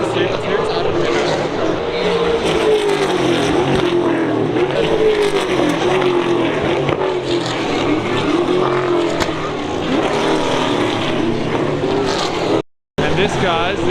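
Rally cars at the bp Adelaide Grand Final, a continuous loud engine roar with revving close by, while people talk over the noise.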